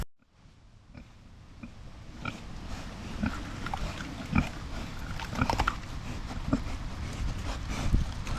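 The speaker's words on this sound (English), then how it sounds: "you guys will see how much the pigs enjoy these eggs here in just a second" Pigs eat chicken eggs, grunting, snuffling and crunching close by in scattered bursts that build up over a steady outdoor background.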